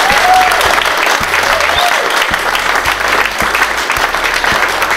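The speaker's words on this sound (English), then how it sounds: "Give a round of applause, everybody, please." A loud, dense crowd applause at a football club season launch, welcoming captain Andrew Bowater, steady and sustained throughout with low rhythmic music thumping beneath.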